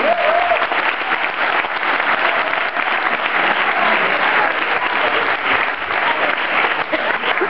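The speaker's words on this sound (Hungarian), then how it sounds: "Köszönjük szépen a tapsot!" Sustained audience applause at a Hungarian stand-up comedy show, a dense even wash of many hands clapping at steady loudness throughout, with no talk.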